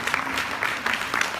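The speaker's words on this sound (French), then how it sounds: "On peut encore les applaudir." Audience applause at a short-film screening and interview event, a dense wash of clapping heard close and steady, with no voices over it.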